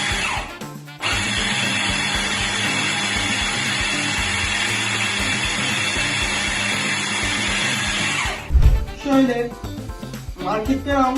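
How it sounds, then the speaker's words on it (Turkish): After a brief start, a loud food processor motor whirs and grinds steadily for several seconds chopping tomatoes, then cuts off, followed by clattering and handling noises nearby. "Şimdi parçalayıcıya atıyoruz"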